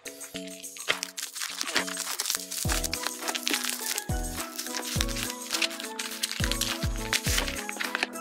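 Packaging of a Logitech M170 wireless mouse is unboxed, with close crinkling and rustling of wrapping over a steady bed of background music.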